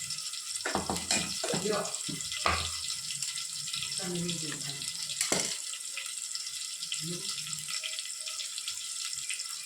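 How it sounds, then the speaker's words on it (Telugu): Broad beans are washed under a running kitchen tap, a steady close hiss of flowing water with brief clatters and faint voices early on. "ఇప్పుడు ఇందులో మొత్తం చిక్కుడుగా అంతా కడిగేసుకున్నాను. వాటర్లో మంచిగా శుభ్రం చేసి పెట్టుకుంది."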